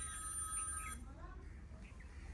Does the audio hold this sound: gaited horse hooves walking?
no